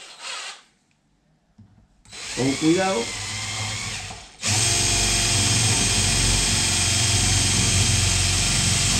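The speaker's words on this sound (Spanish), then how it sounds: "haremos un taladro" A power drill with a 7 mm bit bores a hole for a furniture-mounting bolt, starting with brief whirs and a winding-up pitch, then running steadily and loudly at full speed; someone speaks briefly near the start.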